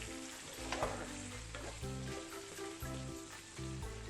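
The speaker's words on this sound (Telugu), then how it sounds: "మిగిలిన మసాలా ఉంది కదా, అది ఇందులో వేసేసి మగ్గించుకుందాము" Jain brinjal curry without onion or garlic simmering in a pan with leftover stuffing masala, a low, faint, steady bubbling sizzle with a few quiet stirring knocks and no talking.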